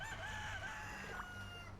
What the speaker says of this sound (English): Oh, the roosters are out.